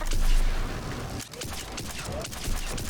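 Arc pistol from Mass Effect 3 firing in a rapid, crackling volley of sharp electric bursts, steady and close, with dense buzzing energy throughout and a brief dip midway.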